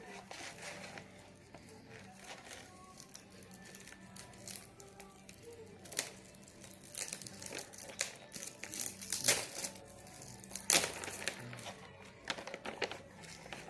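A package is unboxed at close range, its wrapping crinkling and crackling in irregular bursts that grow busier toward the end, with occasional soft speech.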